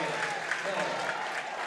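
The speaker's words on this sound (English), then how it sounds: "Potter starters come out to a big hand from the traveling crowd" A traveling crowd at a girls' high school basketball game, Morton at Dunlap, gives the starters a big hand as they come off, steady applause filling the gym from start to finish under a commentator's voice.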